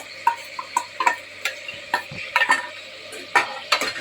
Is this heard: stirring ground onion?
yes